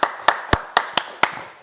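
An audience at an electricians' BS7671 Amendment 4 presentation claps as a guest walks to his chair: sparse, sharp, evenly spaced claps, about six in under two seconds, close and without talk.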